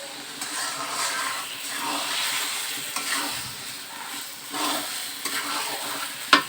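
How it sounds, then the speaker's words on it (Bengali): Spiced masala and meat are stir-fried in a pan, a steady sizzling hiss rising and falling as a spatula scrapes and turns the mixture in slow sweeps, ending with a sharp clack. "এভাবে কিছুক্ষণ কষিয়ে নেব"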